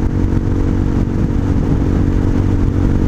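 A Honda Hawk 250 motorcycle with an aftermarket exhaust accelerates gently from about 40 mph near 6,000 RPM. Its engine drones loud and close, a steady buzzing note with rattly clatter underneath.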